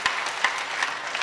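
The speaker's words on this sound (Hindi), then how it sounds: "एक बार जोरदार तालियां भाई जितेंद्र शर्मा जी के लिए बजाइए।" An audience at a poetry recitation event in Firozabad gives brief applause for Jitendra Sharma, a short stretch of crowd clapping with a few sharper claps standing out.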